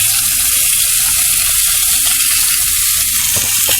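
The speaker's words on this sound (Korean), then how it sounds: "이렇게 삼겹살을 굽는데" Pork belly sizzling and frying on a cast-iron lid griddle at a car camping spot, a loud, steady crackling hiss throughout with no talk.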